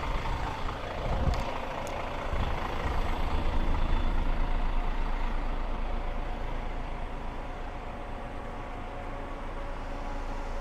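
A large bus diesel engine runs steadily at idle, a low continuous rumble, with a brief hiss early on.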